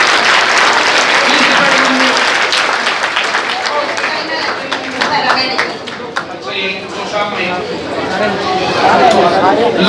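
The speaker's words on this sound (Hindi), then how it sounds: "एक बार ताली बजाओ इसके लिए" An audience at a scholarship test event applauds, dense sustained clapping that dips slightly midway then swells again, with a murmur of voices mixed in.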